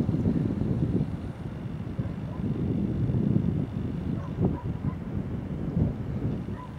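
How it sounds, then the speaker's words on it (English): Gusty wind buffets the microphone on an exposed hilltop at Bray Head above Greystones, a steady low roar with swelling gusts throughout and no speech. "Bit windy here, so I hope that's not interfering too much."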